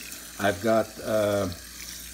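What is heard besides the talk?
hot water being poured into chicken feed mixture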